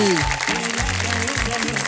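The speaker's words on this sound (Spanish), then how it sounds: "Fuerte las palmas a la familia Juan Manuel." An audience at a live Mother's Day comedy show claps for a family, a dense patter of applause under a loud voice and a tonal background.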